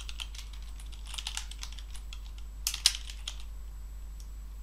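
Rapid typing on a computer keyboard in short bursts of close, crisp clicks with a low steady hum underneath, while working on a Prestashop 1.7 SEO task.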